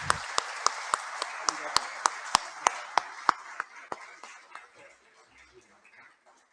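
Crowd applause at the Comenda Grão de Café award ceremony honoring César Cortez: crisp, evenly spaced claps ring out in a steady rhythm for a few seconds, then thin out and fade.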